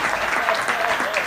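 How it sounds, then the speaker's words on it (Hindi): Audience applause at a Hindi comic poetry gathering (hasya kavi sammelan), a brief dense burst of clapping from the crowd under faint voices. "बढ़िया, एक बार तालियां हो जाए गुरु"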